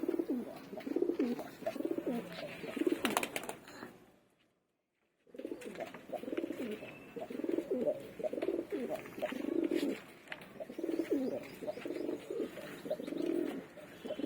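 Three black pigeons in a cage coo in repeated, rhythmic low phrases, close and clear, pausing for about a second before the cooing resumes steadily.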